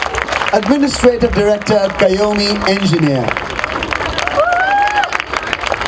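Audience at the Kala Ghoda Arts Festival inauguration claps steadily underneath a loud announcer, with crowd noise filling the gaps.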